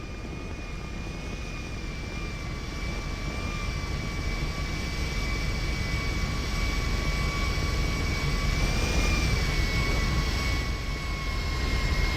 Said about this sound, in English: Alright, the plane's still here.